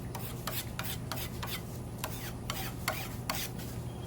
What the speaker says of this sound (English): use a little spatula to flatten it out